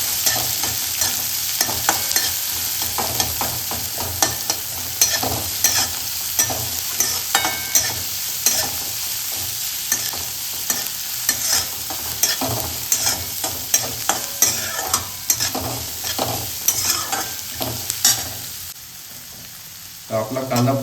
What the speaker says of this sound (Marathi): कांदा पण तुम्हाला चांगल्या प्रकारे परतून घ्यायचा आहे